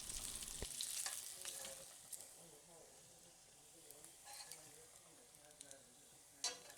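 Bacon renders over gentle heat in a cast iron pan, giving a soft steady sizzle with faint crackles and a few sharper pops and scrapes, quiet and close throughout.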